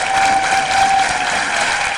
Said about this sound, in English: Thank you for that nice warm applause